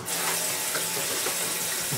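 Pigeon drinkers being rinsed under running water, a close continuous hiss and splash of flowing water over plastic, steady and moderately loud, with no talking.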